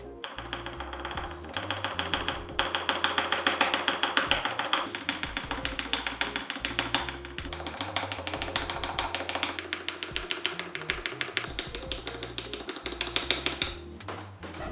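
Rapid, crisp keystrokes rattle on an Akko ACR Pro Alice Plus mechanical keyboard with lubed switches and keycaps in the plate, tapping continuously and close up with a few short pauses.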